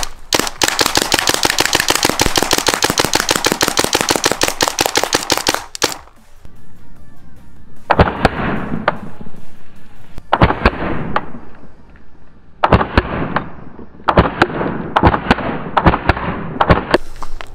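A paintball gun fires at a Bang drink can outdoors: first a long rapid string of sharp shots, then several shorter bursts of quick snapping pops with gaps between, loud and close.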